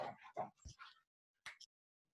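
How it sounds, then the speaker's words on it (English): Dogs scuffle close by, giving a burst of yips, whimpers and short growling barks, then a brief pause before two more quick yelps. "I have like a dog fight going on right next to me."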